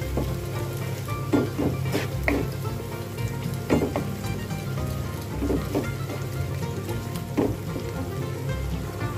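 Red and green chilli paste masala fries in a pan for chicken giblets, a thick crackling sizzle with repeated sharp spatula scrapes and taps at irregular intervals.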